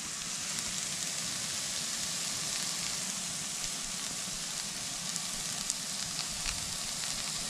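Onions sizzling and frying in a pan at a campsite, a steady, dense crackle that holds evenly throughout, close and moderately loud, with no talking.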